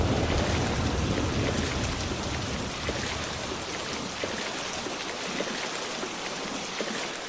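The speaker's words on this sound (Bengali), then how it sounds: "দেখছিস না বৃষ্টির কি তেজ?" A strong cartoon rainstorm: a dense, hissing wash of heavy rain, loudest at the start and easing slightly, with scattered drop patters throughout and no talking.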